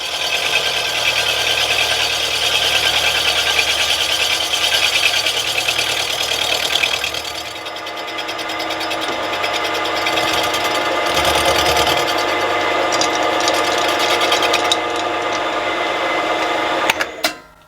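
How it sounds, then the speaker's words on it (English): A cast base for a Stuart S50 steam engine being machined, with a continuous loud mechanical chatter and hum from the machine tool that changes tone partway through before stopping abruptly at the end. "Being cast, this seems to be machining really nicely."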